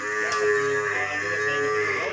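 A pregnant cow, eight months in calf, at a livestock sale moos in one long, steady, drawn-out call that fills the whole stretch, loud and close, with no talk over it.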